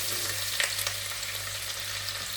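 Crushed garlic and ginger fry in hot oil with a short, continuous close-up sizzle over a low steady hum.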